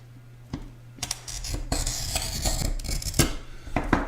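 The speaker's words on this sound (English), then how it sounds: "The rule of thumb with the glass cutter is the amount of pressure you need to score the glass is the amount of pressure you need to depress the head." Glass cutter scoring a sheet of soft stained glass, a close rasping scratch with several sharp ticks and a steady gritty stretch through the middle, no talking.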